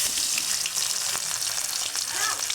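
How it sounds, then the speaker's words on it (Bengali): Potatoes frying in oil with turmeric and salt, a loud, close, continuous hissing sizzle with faint crackles and an occasional stir, no talking. "এখন আমি এই তেলের মধ্যে আলুগুলোকে ভেজে নিব।"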